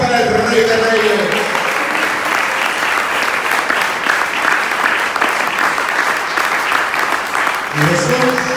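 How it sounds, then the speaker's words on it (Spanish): A church congregation claps, a loud, dense and steady round of applause that fills the space for several seconds. A voice speaks at the start and again at the end. "Un aplauso para el Rey de Reyes."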